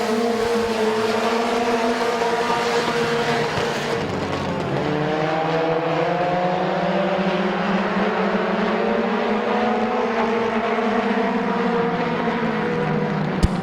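Race cars roar around the track at Midvale Speedway during a heat race, a continuous loud engine drone with rising and falling pitch as cars pass, no voices audible over the noise.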